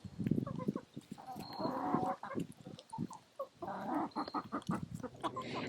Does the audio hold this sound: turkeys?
yes